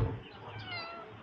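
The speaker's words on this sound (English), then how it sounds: "This is the community cat with no name" A community cat in Mexico gives one short, close meow with a wavering tone, alone and fairly faint.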